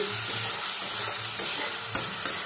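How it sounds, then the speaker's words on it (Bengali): Onion and garlic paste being stirred in hot oil in a pan while cooking a rohu fish curry with curry leaves, giving a steady close sizzle with soft scraping stirs and a couple of sharper clicks of a spoon near the end. "আর পেঁয়াজ রসুন বাটাটা তেলের মধ্যে একটু নাড়াচাড়া করে নিয়ে"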